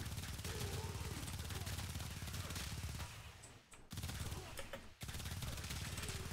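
Rapid, continuous automatic gunfire from the Dual Toxocyst weapon in a shooter video game, loud and dense with brief pauses while charging its Incarnon form, with faint ricochet pings.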